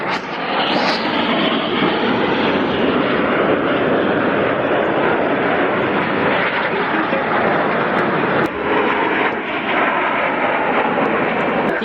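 Military jet aircraft roar loudly and continuously overhead during a flying display at an air tattoo, a powerful engine rumble that barely varies in level.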